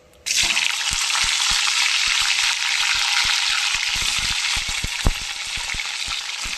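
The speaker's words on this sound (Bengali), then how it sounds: "এবার ফুলকপিগুলো একে একে আমি দিয়ে দেবো।" Cauliflower pieces drop into hot oil in a pan and set off a sudden loud sizzle that holds steady, dotted with small pops and crackles, with no talking.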